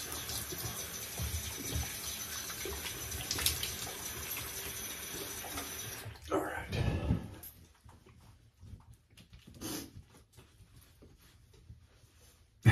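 Tap water runs into a sink after shaving with a razor and shave soap, a steady close splashing flow for about six seconds before it stops, leaving a quieter room with light handling sounds.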